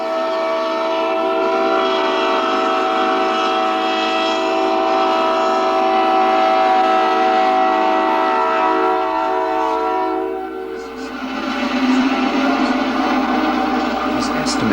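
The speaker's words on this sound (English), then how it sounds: "this train coming through a community in the United States could be carrying possibly 200 warheads" A train rolls through a community in the United States, its horn sounding in long sustained blasts over a steady rumble of wagons, the horn cutting off near the end as the rolling noise carries on.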